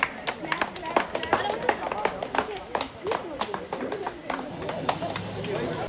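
Scattered hand clapping at a 25th wedding anniversary family celebration, welcoming the couple to the stage, with sharp uneven claps mixed into steady crowd chatter and voices throughout.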